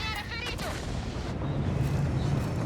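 Artillery fire in a tank battle video game on a mountain pass map, with the Controcarro 3 Minotauro among the vehicles. Booming blasts roll into a continuous loud rumble of gunfire and explosions, with no break throughout.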